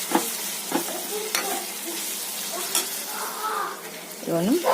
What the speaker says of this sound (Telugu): ఇలా మన ఉల్లిపాయలు కొంచెం వేగిన తర్వాత ఇందులో టమోటా వేసుకున్నాను టమోటా కూడా బాగా మగ్గాలి